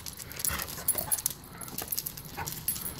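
A dog whimpers and whines in short, soft bursts, fairly faint, with light rustling and jangling around it and no clear talk.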